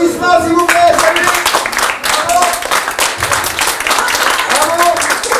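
Applause and clapping from an audience during a stage performance of Pagnol's Marius card-game scene, loud and continuous with voices and musical tones over it.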